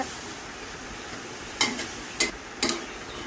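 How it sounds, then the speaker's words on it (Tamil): Chicken pieces frying in a pan over a steady soft sizzle, broken by three sharp stirring scrapes and clatters of a spoon against the pan in the latter half. "அதுக்கப்புறம் நல்லா கழுவி வச்ச சிக்கனை அதோடு சேர்த்துக்கோங்க. சேர்த்துட்டு நல்லா கிண்டி விடுங்க."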